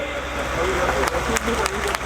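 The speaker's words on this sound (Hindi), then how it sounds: "जोरदार तालियां बजाओ" Applause and cheering from a village crowd at a live Rajasthani comedy show, a dense wash of clapping with babble and speech mixed in throughout.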